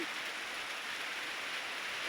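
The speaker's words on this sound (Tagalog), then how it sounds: "Umuulan na naman." Rain falls steadily at a flooded river, a dense continuous hiss of drops with no breaks, moderately loud and close, with no voices over it.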